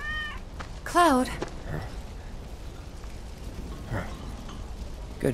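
A cat in the video game Final Fantasy 7 Remake lets out one clear, rising meow near the start, with faint rainy ambience and a soft character voice later on.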